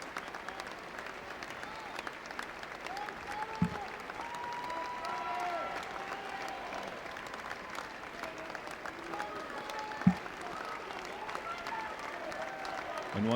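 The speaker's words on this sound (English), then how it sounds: "Strasburg fans and Linton fans cheering together." A mixed high school basketball crowd of Strasburg and Linton fans applauds and cheers steadily in a gym during a Region 3 championship standing ovation, a dense wash of clapping with a couple of sharp louder bursts and some voices in the mix.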